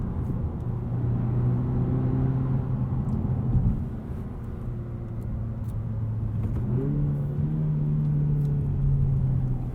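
A 2020 Honda Civic Si driving in its quieter non-sport mode, giving a steady engine drone that holds fairly constant, dips slightly, then climbs in pitch as the car speeds up, with no talking.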